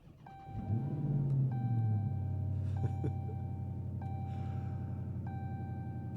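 A supercharged V8 in a Dodge Demon 170 cranks and fires, its revs swelling in a loud rising flare before falling into a deep, steady, rumbling idle close by.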